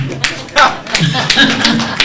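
A concert audience claps at a celebration in Ludhiana, with scattered, uneven hand claps and taps over a couple of seconds, fairly loud and close, while a voice talks over part of it.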